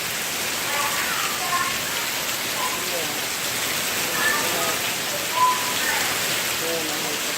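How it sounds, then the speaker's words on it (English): Heavy rain pours down steadily on a flooding day, a dense and constant hiss of drops hitting surfaces with no break, and only faint voices now and then. "Guys, this is such a rainy day."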